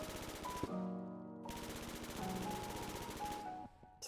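Rapid automatic bursts from a P90 in the Roblox game Jailbird, loud and close, with a sustained stream of shots broken by a brief pause before firing resumes.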